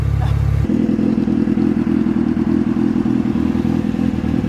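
A BMW 335i fitted with a Brembo brake kit gives off a loud, close engine drone that steps up in pitch early on and then holds a steady, rumbling tone.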